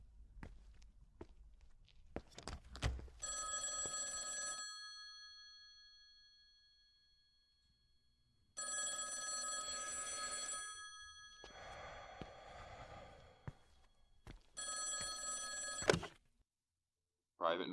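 An old-style telephone bell rings in three bursts with pauses between, loud and close, with faint footsteps and handling noises between the rings; a brief voice is heard at the very end.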